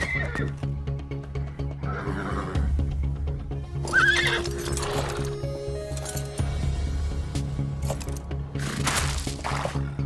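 Horses in a video game horse race whinny and neigh amid clattering hooves and busy layered game sounds, fairly loud and continuous.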